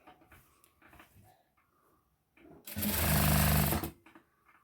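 Sewing machine stitching a saree blouse, running in one loud continuous burst of about a second and a half after quieter handling noises and faint movement.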